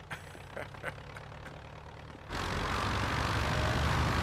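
An airplane engine in the Knack video game bursts in suddenly partway through, then holds as a loud, steady, broadband roar after a quieter stretch of game sounds.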